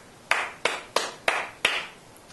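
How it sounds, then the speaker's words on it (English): Bare hands clap out a short rhythm of five crisp, close claps spaced roughly evenly, each ringing briefly in a quiet room. "If I were to clap it, it would sound like this"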